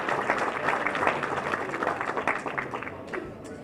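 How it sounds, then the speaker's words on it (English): A gathering at a patriotic fundraising party applauds for a scholarship donor, a moderate spread of claps that thins out toward the end, with voices mixed into the clapping. "If we can give a round of applause for him too."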